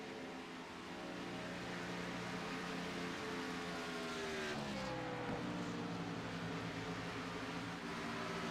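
Race cars of a NORA Cup Series round at Kansas roaring around the track in the closing laps, a steady loud engine drone with a rising pitch sweep as cars pass, no talk.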